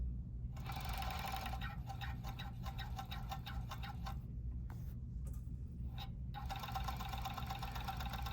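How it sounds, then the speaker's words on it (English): A serger runs a contrasting-thread inner leg seam on a pair of pants, buzzing in fast, even bursts with short stops between runs, close up and with no voices. "as I'm serging"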